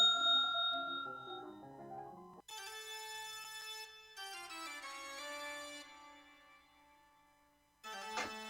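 A bell ringtone of Chopin and Bach music plays clear, ringing tones in a few melodic runs separated by short gaps, ending with a sharp, bright ring.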